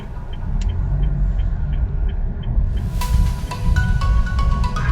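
Car engine rumbling steadily up close while parking at a Thai temple lot on a busy Saturday, with a low continuous drone and brighter clatter and squeaks in the final seconds.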